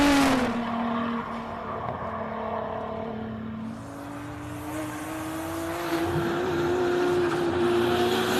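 Race cars at the Simola hill climb, engines droning and shifting pitch as they climb and accelerate through the course, heard from a distance as a steady mechanical whine rising again toward the end.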